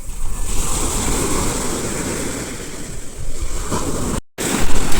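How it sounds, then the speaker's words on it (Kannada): Strong ocean waves crash on the beach at Velankanni, a loud roaring surf with heavy wind buffeting the microphone, swelling again after a momentary cut-out. "ಇಲ್ಲಿ ನೋಡಿ, ತುಂಬ ಜೋರು ಅಲೆ"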